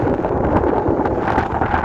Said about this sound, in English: It's extremely windy, so if you can't hear me very well, I must apologise here and now.